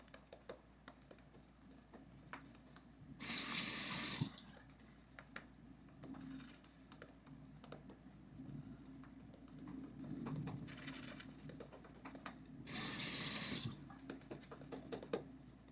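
Tap water runs into a sink in two short bursts while a synthetic shaving brush is rinsed, the splashing fairly close and loud against a quiet room, with faint handling noises between.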